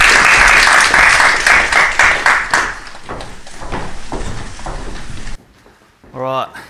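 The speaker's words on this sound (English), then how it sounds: "a big round of applause for Blake jumping in and stepping in at the" An indoor audience at a first home buyer seminar claps loudly and densely, then the applause thins and stops abruptly, followed by a brief moment of someone speaking.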